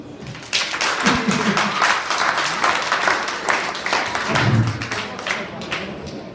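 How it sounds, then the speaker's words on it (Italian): Applause at a sports club's season dinner, a roomful of people clapping loudly and steadily for several seconds, with a few voices mixed into the crowd noise. "Grande applauso."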